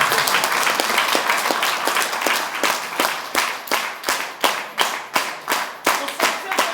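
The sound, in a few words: audience clapping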